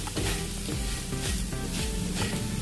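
Spice masala for soya rice sizzling and frying in a pan on low gas, with a steady close crackle and soft stirring scrapes throughout, no voices.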